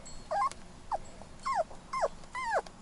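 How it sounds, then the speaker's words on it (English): A dog whimpers in a new, unfamiliar house, giving five short, high, sliding whines spaced evenly over a few seconds, fairly close and clear against a quiet background. "This could be Chelsea's doggy"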